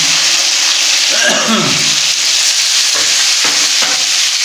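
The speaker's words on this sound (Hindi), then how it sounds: "अभी हम इसमें टमाटर ऐड कर देते हैं" Tomatoes added to golden-browned garlic ginger paste frying in a pan for whole masoor dal, giving a loud, close, continuous sizzle with stirring scrapes and no talk.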